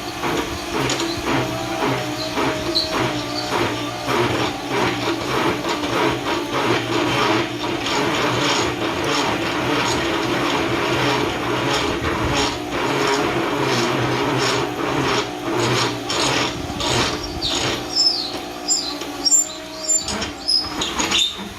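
A magnetic drill with a step drill bit cuts through stainless steel, a loud continuous grinding whir with repeated high chirping squeals from the cutting edge and metallic rattles as the cut progresses.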